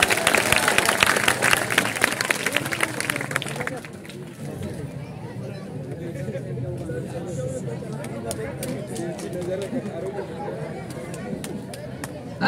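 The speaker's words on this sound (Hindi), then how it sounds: "बिल्कुल दिल खोल के ताली बजाओ" An audience claps loudly for a few seconds after a school play performed by students, then the applause fades into a low murmur of crowd chatter.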